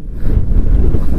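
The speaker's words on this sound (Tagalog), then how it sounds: "Shit, lakas ang hangin." Loud, gusty wind pounds the microphone outdoors on the coast at San Nicolas, Pangasinan, a deep rumbling buffeting that swells after a brief quieter start.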